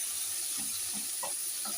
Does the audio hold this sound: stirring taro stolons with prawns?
yes